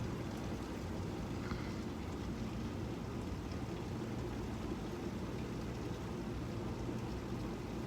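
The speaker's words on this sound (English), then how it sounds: "I love it when it rains like this." Heavy rain pours steadily and loudly during a thunderstorm, a dense continuous wash of drops with no break and no voices.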